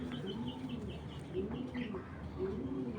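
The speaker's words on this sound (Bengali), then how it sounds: "এই যে এইটাই হলো ওই কবুতর" Pigeons kept in a home breeding loft, high-priced racing birds, coo softly and continuously at moderate distance, with layered throaty calls over a steady ambient background and no talking.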